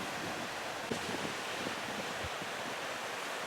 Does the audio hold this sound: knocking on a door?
no